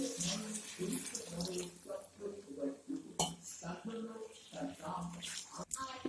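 Water is poured into a pot of mutton and pea ghugni, splashing and running under steady talk, with a few clinks of utensils against the pot.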